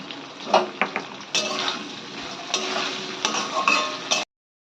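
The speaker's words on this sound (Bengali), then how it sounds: "আমরা আদা বাটাটা দিয়ে ভালো করে কষিয়ে নিয়েছি" Spatula scraping a pan as ginger paste fries, soft sizzling under intermittent stirring strokes, then an abrupt cut to silence.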